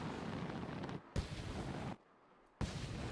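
Loud, dense blast of noise from a robot exploding in the Mars First Logistics video game, cut by two sudden silent gaps, with sharp bursts as the roar resumes; no talk.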